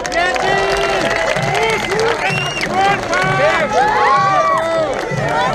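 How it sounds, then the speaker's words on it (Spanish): Loud crowd at a Mexican car festival cheers, whoops and applauds continuously for several seconds, a dense wash of voices and clapping filling the space. "Un aplauso muy fuerte otra vez para 3M."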